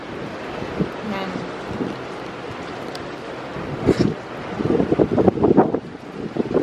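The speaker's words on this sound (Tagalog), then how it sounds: "Ang pito, ang pumipito po talaga yung hangin." Strong Typhoon Ulysses wind gusts and roars outside a house, with a whistling edge and rushing bursts that swell toward the end, while someone speaks briefly over it.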